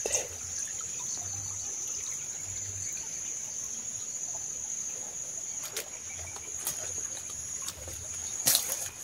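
A small creek trickling softly in the background, steady and faint, beneath a constant high chirring of crickets, with a few brief clicks near the end.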